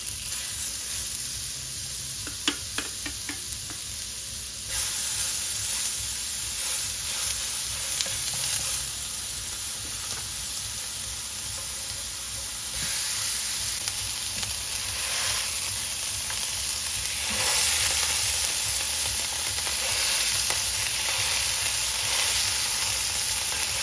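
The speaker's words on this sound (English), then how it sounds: "What I have to cook right now is the beef patties and the steaks behind me. I have my cast iron on the stove and it's already heated up" Beef patties and steaks sizzle and fry in a hot cast iron pan on a stove, a steady loud crackling hiss with occasional stirring and scraping throughout.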